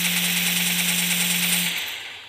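An AK machine gun in a video game fires a rapid, continuous burst with an even rattling rhythm and a steady hum under it, fading out near the end.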